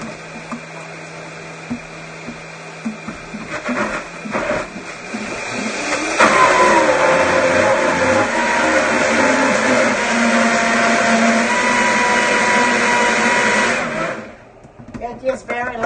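A blender whirs loudly through a thick vegan cheese sauce with little liquid in the jar, starting at low speed, then surging to a harsh, sustained full-power roar before cutting off near the end.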